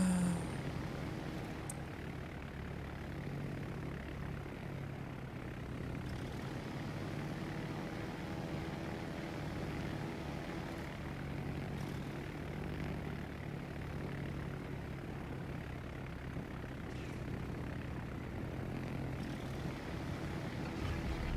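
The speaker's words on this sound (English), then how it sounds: "He is just dropping his fucking aircraft." Aircraft engines in the naval battle game World of Warships, a steady droning propeller hum with a faint pulsing rhythm, continuous and moderately distant for about twenty seconds, with no talk over it.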